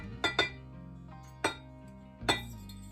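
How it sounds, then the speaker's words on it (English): A whisk stirs melted coconut oil and cacao powder in a bowl. Four distinct clinks of metal on the bowl ring out close and clear, two in quick succession, then two more spaced apart. "Whisk this up real quick."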